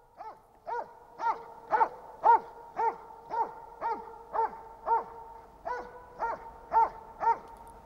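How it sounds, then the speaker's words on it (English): Hunting dogs bark steadily at a moose held at bay during a Swedish moose hunt, about a dozen evenly spaced barks at a moderate distance, with no talk over them. "hunting dogs barking to keep the moose at bay"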